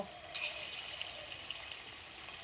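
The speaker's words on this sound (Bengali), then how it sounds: "এইবার আমি এক এক করে আলু বড়াগুলো ছেড়ে দেব, খুব সুন্দর করে ভেজে নেব।" Potato fritters drop into hot mustard oil and set off a sudden faint sizzle. A soft, steady frying hiss follows and lasts to the end.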